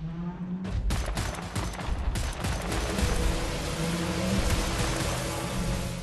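Rapid, dense gunfire from shotguns in the video game Wolfenstein: The New Order erupts after a brief quiet start, then continues as a loud, sustained barrage with overlapping blasts to the end.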